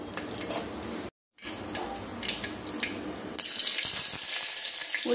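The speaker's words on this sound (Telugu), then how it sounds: "ఆయిల్ వేడెక్కిన తర్వాత తాలింపు గింజలు వేద్దాము" Tempering seeds sputter and sizzle in about two tablespoons of hot oil in a pan while Thotakura pulusu (amaranth leaf curry) is being cooked, a steady crackling hiss broken by a brief silent gap, then louder and brighter frying.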